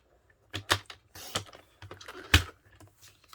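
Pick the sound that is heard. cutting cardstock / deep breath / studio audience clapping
cutting cardstock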